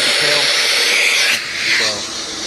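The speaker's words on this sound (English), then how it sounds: "I am using the Hoover backpack vacuum with the attachment here" A Hoover backpack vacuum cleaner with a hose attachment runs on chairs during janitorial cleaning, giving a loud, steady airy roar that dips briefly as the nozzle shifts.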